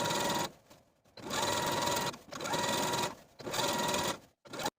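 A sewing machine stitching an elastic casing along the top edge of a blouse, running in four steady whirring bursts with short pauses between them, close and clear with no talk.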